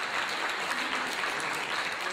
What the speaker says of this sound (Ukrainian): Я прошу поддержать бурными оплесками нашего комитета хореографии Виктора Костя